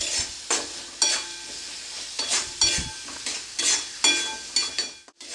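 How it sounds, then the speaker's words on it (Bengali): Spice masala frying in a pan for Bengali fish kalia, with rhythmic spoon strokes scraping and clinking about every half second over a constant sizzle, close and without talk. "দিয়ে আমি মশলাটা 2 থেকে 3 মিনিট ভালো করে কষাতে থাকবো"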